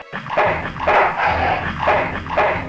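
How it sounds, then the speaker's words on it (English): A dog barks in the video game Full Throttle Remastered, a run of loud, close, rhythmic barks and yelps repeating about every half second, with no talking over them. "Bad dog."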